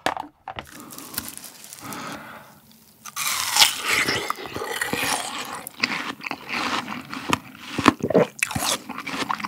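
Someone bites and chews crunchy watermelon up close, with wet crunches and juicy squishes in an irregular rhythm, no talking.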